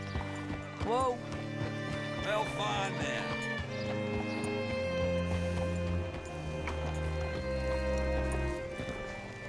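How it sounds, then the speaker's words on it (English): In Red Dead Redemption 2, a horse's hooves clip-clop at a walk and it gives a brief whinny, heard up close amid game ambience and music while characters talk. "Hitch your horse up here."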